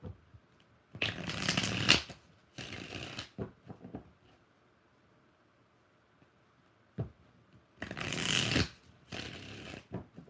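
Tarot cards shuffled in several loud riffling bursts with quiet pauses between, up close and without talk.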